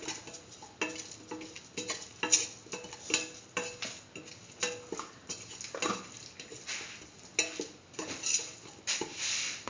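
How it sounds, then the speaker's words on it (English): Salt stirred into a cumin tomato stew with a spoon: repeated light clinks and scrapes against a pot in an uneven rhythm, close and fairly quiet, with no talking. "Mix in the salt"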